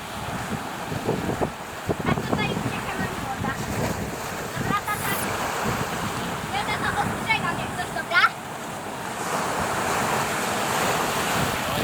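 Ocean waves and surf on a beach at Salalah in Oman, with steady roaring wash and wind buffeting the microphone throughout, while people talk over it.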